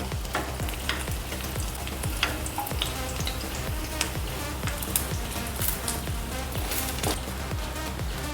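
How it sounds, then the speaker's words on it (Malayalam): Ivy gourd (kovakka) pieces fry in hot oil, giving a steady, dense sizzle with scattered crackles and pops that continues evenly throughout, close by and with no talk. "ബാക്കിയൂടെ നമുക്ക് ഇതുപോലെ അങ്ങ് വറുത്തെടുക്കാം"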